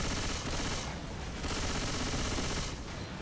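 Rapid sustained gunfire from shooting zombies in the video game Left 4 Dead 2, a dense continuous burst of automatic fire with no pauses.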